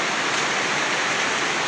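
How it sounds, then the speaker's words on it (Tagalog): Rain pouring into a basin, a dense, even hiss of falling water that stays steady and fairly close for the short stretch, with no voices. "yung batya mapupuno na rin nang dahil sa ulan"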